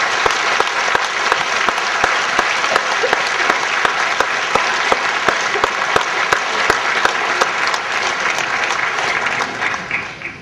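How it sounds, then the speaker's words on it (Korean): A church congregation welcomes the pastor with loud, sustained applause from many hands, a dense roar of clapping that gradually falls into a rhythmic unison beat before tapering off at the end. "우리 한번 박수로 환영하겠습니다"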